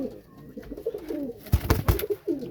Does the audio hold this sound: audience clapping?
no